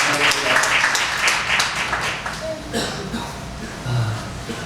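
Church congregation applauding during a Korean service after a closing prayer, a loud steady wash of clapping with a voice speaking over it.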